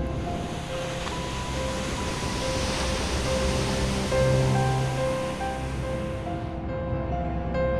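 Sea waves wash continuously at Kkotji beach near the Halmi Halabi rocks, a broad steady surf rush heard from a distance with soft tonal music layered over it.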